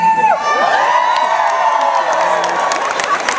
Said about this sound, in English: Here comes cheap applause,